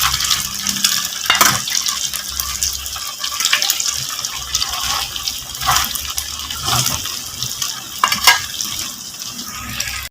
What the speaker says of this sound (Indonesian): Goreng pempek itu nggak perlu lama-lama ya bun. Yang penting minyaknya aja yang panas.